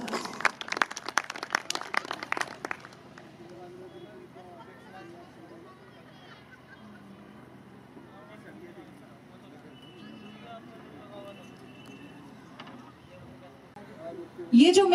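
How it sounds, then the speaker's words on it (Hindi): An audience at a gurukul school function in Meerut claps in a dense burst of applause for about three seconds, which then fades into a quiet room with someone speaking. "जोरदार तालियों से स्वागत"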